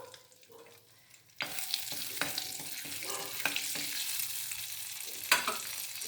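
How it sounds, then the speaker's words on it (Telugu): Whole garam masala hits hot oil for gongura chicken: a near-silent start, then a sudden loud sizzle that holds steady with spatula scrapes and stirring clinks over it, no voices. "ఇప్పుడు ఈ ఆయిల్ వేడెక్కిన తర్వాత మనము గరం మసాలా, అదే హోల్ గరం మసాలా వేసుకోవాలండి"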